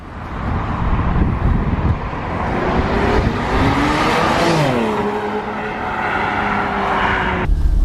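A Porsche Boxster Spyder drives along the road, its engine note rising and shifting through steady acceleration with heavy wind rush, loud and close throughout.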